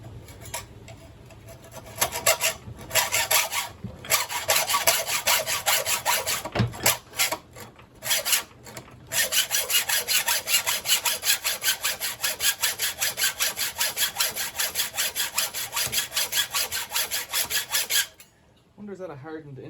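A hand saw cuts rhythmically into a Kryptonite Series 2 bike lock with a hardened alloy insert, rapid close rasping strokes running in bursts with brief pauses, then a long steady stretch before stopping.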